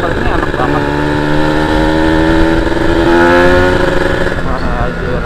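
A 2001 Kawasaki Ninja SS 150 two-stroke motorcycle engine revs steadily and loudly up close, its buzzing pitch climbing slightly midway before easing off, with continuous riding noise throughout.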